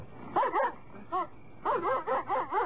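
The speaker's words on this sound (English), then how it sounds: "Deputy Paul Thompson arrived on the scene with his dog, Ando." A sheriff's deputy's police dog barks in a rapid series of sharp, mid-distance barks: a pair, a lone bark, then a steady run of five or six, loud and uncovered by any talk.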